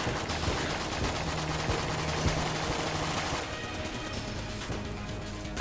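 Dense gunfire and crashing impacts from the Enter the Gungeon video game, a continuous busy barrage of shots and smashes with no pauses, moderately loud, with no talk over it.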